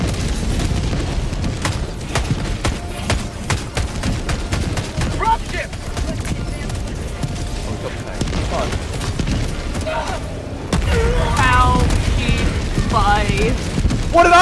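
Repeated explosions and mortar impacts in Helldivers 2, a busy stream of booms and sharp cracks with mechanical clatter throughout and voices talking over the din in places.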